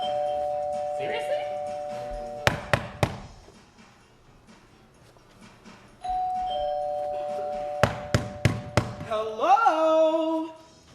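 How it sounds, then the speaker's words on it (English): A doorbell chimes twice with a pause between, mixed with sharp thumps and knocks and some background talking. "why would Joe be using the doorbell?"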